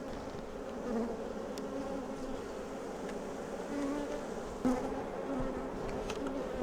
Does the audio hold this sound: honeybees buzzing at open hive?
yes